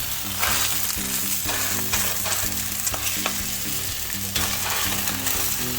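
Pork frying in a pan gives a steady, close sizzle, with intermittent scrapes and clicks of stirring or turning throughout; no one speaks.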